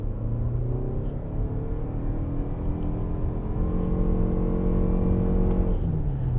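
Lexus RX 350h hybrid with a naturally aspirated engine accelerating, a rough, slightly chattery engine drone rising steadily in pitch, heard from inside the cabin.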